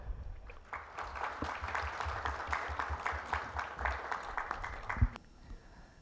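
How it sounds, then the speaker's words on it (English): Conference audience applauding to welcome someone speaker, a steady wash of clapping lasting about five seconds before it stops abruptly. "let's have a huge round of applause to welcome Miss Monica"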